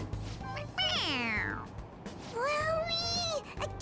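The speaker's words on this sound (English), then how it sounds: "It meows when you press on its head." A toy cat in the video game Persona 5 Royal gives two clear, rising-and-falling electronic meows when its head is pressed, loud and close, with game ambience underneath.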